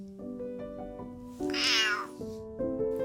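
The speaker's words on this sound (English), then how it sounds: "I find joy in helping many stray cats living at Milan's Castello Sforzesco, where Leonardo da Vinci lived" A stray cat meows at Milan's Castello Sforzesco, a clear close meow rising and falling over a steady tonal background.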